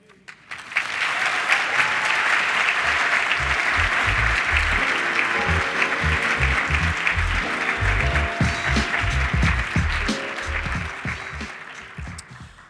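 Sustained audience applause at a university diversity forum welcome session, dense and loud from the start and holding steady for several seconds, with a few voices rising over the clapping near the end.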